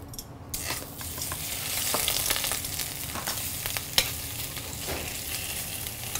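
Prawns fry in a hot pan for Italian seafood pasta, giving a steady, close sizzle with occasional stirring scrapes and no talking.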